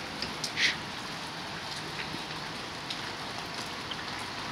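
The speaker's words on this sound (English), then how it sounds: "First rain of the New Year's." Steady rain falls outdoors on a cold, wet New Year's day, an even close patter with a few louder drips standing out.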